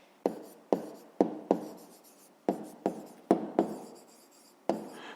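A pen writes a math exercise answer by hand on paper, with about ten sharp taps and scratching strokes in an uneven rhythm, close and distinct in a quiet room, with no one talking.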